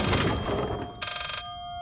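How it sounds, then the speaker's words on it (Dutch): A telephone rings in the horror game Layers of Fear, with a short burst of electronic bell tone rising over a rumbling thud, then fading into a faint ringing hum. "Nog een telefoon."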